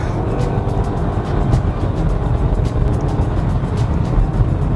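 A Volvo V60 Cross Country wagon accelerates, with a steady, fairly loud engine and road drone heard from inside the cabin throughout.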